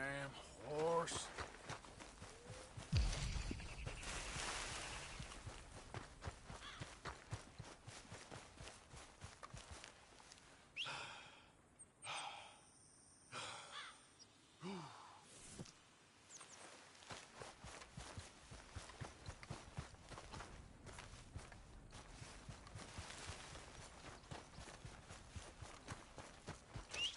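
A horse's hooves clip-clop along at a steady walking pace, close and moderately loud, with a brief quieter stretch partway through and a voice muttering now and then over the hoofbeats.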